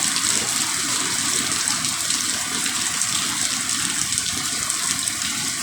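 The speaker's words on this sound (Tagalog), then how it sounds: "may sapa dito sa likod namin" A creek flowing behind a house during rain sends up a steady, loud rushing of water that fills the whole stretch without pause, with no voices over it.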